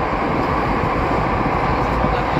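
Jakarta MRT subway train runs with a loud, steady roar of wheels and motors heard from inside the carriage, continuous and unbroken.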